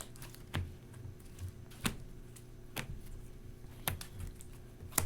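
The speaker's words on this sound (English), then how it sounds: "I have no cards left, so I'm just going to go ahead and shuffle these" A deck of cards for the Volfyirion card game is shuffled, giving sharp, evenly spaced clicks and flutters at close range with no talking.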